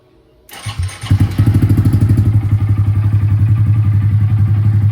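A motorcycle with about 1,400 miles on it cranks briefly, catches and settles into a steady, loud, rapid idle pulse, close by with no talking.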